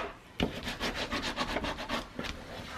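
Paper is burnished down onto a junk journal cover by hand, a series of quick, close rubbing strokes in a brisk back-and-forth rhythm.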